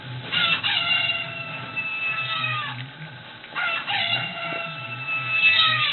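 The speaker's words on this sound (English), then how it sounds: "That's a noisy chicken." A noisy chicken, apparently a toy being played with, gives two long, strained crowing calls separated by a short pause, loud and close, with no talking over them.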